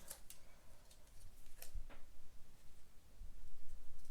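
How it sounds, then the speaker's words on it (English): Metal scissors snip around the edges of mirror cardstock while a holiday card is being made, giving a few brief, crisp clicks and slices spaced irregularly. The snips sound close and fairly quiet, with no talking. "I'm just gonna get my scissors"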